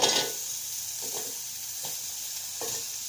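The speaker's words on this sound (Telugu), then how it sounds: "పోపు పెట్టేద్దాం చట్నీ." Spices tempering in hot oil for a chutney sizzle with a steady hiss, punctuated by a few short scraping stir strokes in the pan.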